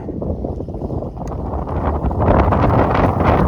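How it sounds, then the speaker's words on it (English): Gusty wind buffets the microphone on a hike through Warden Woods Park, a loud continuous low roar that grows stronger toward the end. No one speaks. "Okay, it's getting a little windy right now."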